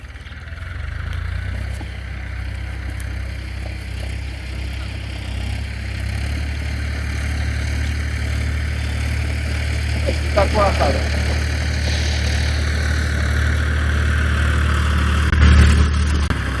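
A tractor engine idles steadily in a farm field, giving a continuous low, even rumble close by, with people talking over it throughout.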